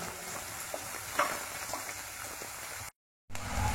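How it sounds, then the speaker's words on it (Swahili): Onions sizzling in a hot pan for chicken liver curry while being stirred, a steady close frying hiss with scraping stir strokes, briefly cutting to silence. "Kukoroga vizuri na kuviacha mpaka vipate rangi ya brown."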